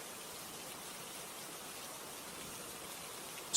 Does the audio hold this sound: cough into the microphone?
no